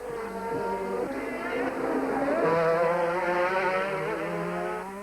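A Formula 1 car screams at over 300 km/h out of the tunnel at the Monaco circuit, a loud, continuous high-pitched engine wail with shifting pitch that swells and fades.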